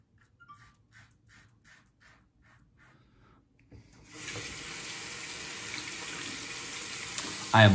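Water runs from a tap as a razor is rinsed after shaving, after a few quiet soft rubbing sounds. The rush starts suddenly midway and stays steady and close, with no speech.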